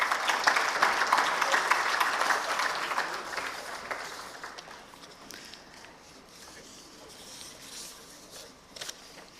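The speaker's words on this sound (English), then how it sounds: "Ladies and gentlemen, a big round of applause, please." Audience at a petrochemical symposium applauding, a dense burst of clapping that is loud at first, then gradually thins and fades to scattered claps.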